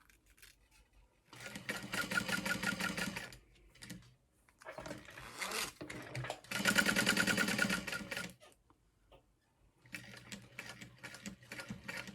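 A sewing machine bastes a zipper panel onto a large handbag, running close and loud in three bursts of rapid stitching, each a few seconds long, separated by quiet pauses and light handling noises.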